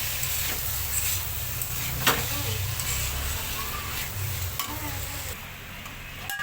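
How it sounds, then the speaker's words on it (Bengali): Boiled homemade atta noodles frying in a pan, with a steady soft sizzle and occasional stirring scrapes running throughout at moderate volume. "কিছুক্ষণ এখন এখানে ভেজে নিব"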